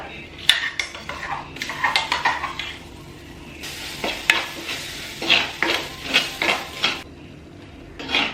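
Ground tomato and cashew paste frying in oil for mushroom curry, with repeated scraping and stirring clatter of a spoon against the pan over a soft sizzle, close and fairly loud in uneven bursts.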